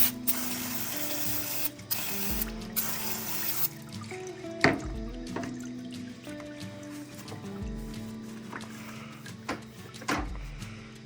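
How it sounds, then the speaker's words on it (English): Brake cleaner sprays in hissing bursts over the underside of a John Deere D110 riding mower, several short blasts separated by pauses, with clinks of handling in between. "Let's go get some brake clean and hose this off."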